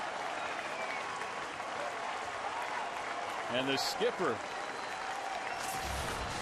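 Crowd of better than 28,000 at a Yankees–Tigers baseball game in Detroit roars and applauds steadily throughout, a dense sustained wash of cheering while a commentator talks briefly over it.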